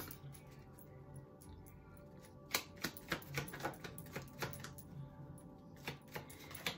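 Tarot cards being shuffled by hand produce a run of quick, crisp clicks and taps, close and faint, coming in an uneven rhythm after a quiet start.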